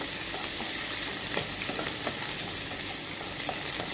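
Chopped onion sautés in hot oil with mustard seeds, urad dal and curry leaves, a loud, dense, constant sizzle up close with a few stirring scrapes and no voices.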